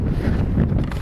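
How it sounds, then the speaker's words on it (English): Wind buffets a winter campsite in the Boundary Waters where a tent is staked down with ice spikes, a steady loud roar with gusty rumbling against the microphone and no voices. "It's a pretty windy day."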